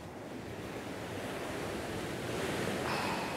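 Sea waves wash steadily against the coast on a sunny day. The surf makes a broad, continuous rush that builds slightly toward the end, with light wind buffeting the microphone and no voices.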